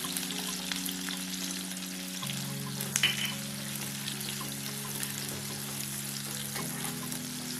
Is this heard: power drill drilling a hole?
no